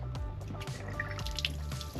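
Grey water drains from the waste tap of a motorhome in a steady, continuous rush with trickling and dripping splashes throughout, close and fairly loud.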